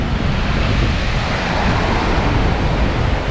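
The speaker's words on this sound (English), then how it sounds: "This dam, a lot of flowing water here" Water pours through a dam on a wilderness canoe route in Quetico, a loud, steady, broadband roar close by with no break.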